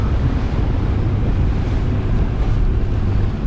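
Strong wind roars across the microphone and waves wash against the hull of a sailboat motor-sailing on two reefs into a 15-knot headwind off Denmark, a dense, steady rushing noise with no voices.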